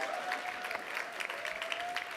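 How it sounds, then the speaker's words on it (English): Fairly faint, steady applause from a fashion event crowd greets the founders as they come up, with a faint tone running through the clapping and a hint of voices mixed in. "give a huge round of applause for the founders, Adebera and Noctula, as they come up"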